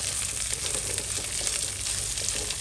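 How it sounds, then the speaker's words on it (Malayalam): Sprouted green gram being sautéed in a pan, a steady close sizzle and crackle with no pauses or voices. "ഇതിപ്പോൾ നമ്മൾ നന്നായിട്ടൊന്ന് വഴറ്റി എടുത്തിട്ടുണ്ട്"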